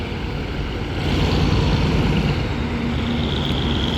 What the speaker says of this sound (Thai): ส่วนคุณปู่สับเปลี่ยนของเราก็ เร่งเครื่องกันไม่หยุดเลยนะครับ